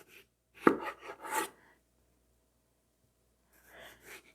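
A kitchen knife chops onion for homemade salsa: a quick cluster of close, crisp strokes on a cutting board, a quiet pause, then a few softer cuts.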